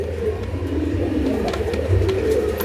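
Racing pigeons coo in a low, continuous murmur, several birds overlapping at close range with steady background noise.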